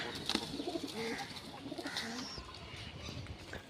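Soft, faint pigeon coos and bird calls in a quiet outdoor setting, a few low murmuring notes scattered among light chirps.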